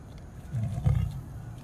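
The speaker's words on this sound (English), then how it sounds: "I can still hear Cyrus trilling." A lion at a big cat sanctuary gives a low, rumbling trill and grumble, moderately near, swelling briefly then fading under outdoor background noise.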